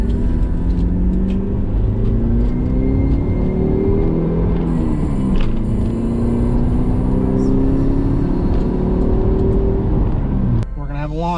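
The 2.0-liter four-cylinder turbo engine of a first-generation Eagle Talon revs hard from inside the car, a loud, continuous roar that rises and falls in pitch, with a brief chirp near the end.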